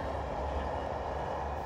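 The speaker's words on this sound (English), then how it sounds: "A tram from the airport, that." A tram from the airport drones past nearby, a steady rumbling continuous low roar with broad hiss, no voices.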